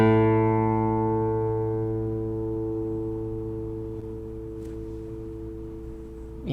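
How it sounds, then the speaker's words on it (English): A single guitar note, an A, rings out alone with rich steady overtones and slowly decays over several seconds, still sustaining at the end. "let's hear how long that A lasts on my guitar."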